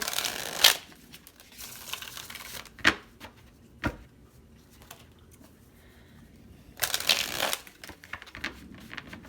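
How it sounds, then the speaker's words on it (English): Deck of cards being shuffled by hand in several separate bursts, crisp riffling and flicking rustles with quiet pauses between, close and clear with no talk. "We're gonna just shuffle a few times."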